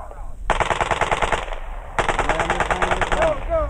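Rapid automatic rifle fire on a 1967 Army basic training range at Fort Dix, New Jersey, crackles in two sustained loud bursts, the second following a short pause, with a faint voice near the end.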